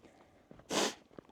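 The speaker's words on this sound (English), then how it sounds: "Pardon my sniffles." A single short sniffle on a trail walk to Delicate Arch in Arches National Park, a close breathy burst lasting under half a second, with a few soft footsteps around it.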